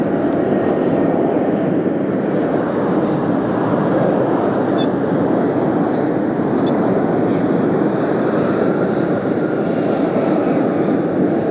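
A jet airliner bound for Narita, Tokyo, takes off using the full length of runway 8 left at windy Las Vegas, a loud, sustained engine roar with a rising whine, close and unbroken.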